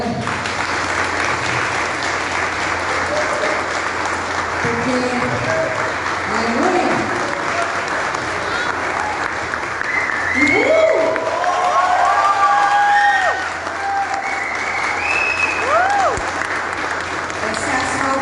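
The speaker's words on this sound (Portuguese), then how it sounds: "Eu vou pedir para vocês uma salva de palmas para ela." A church congregation gives a long, loud round of applause with cheering, while a preacher's voice rings out over it.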